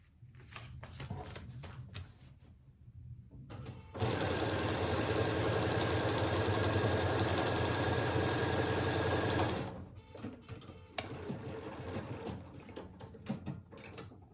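A sewing machine stitches pieces of fabric for foundation paper piecing in one continuous run of about six seconds, loud and close, framed by quieter rustling and clicking handling before and after.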